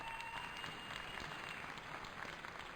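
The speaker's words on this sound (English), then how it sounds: "So give yourselves a round of applause." Applause from a convention audience, a steady dense patter of many hands clapping at low level, continuous for a few seconds.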